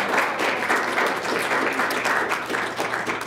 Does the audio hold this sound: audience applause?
yes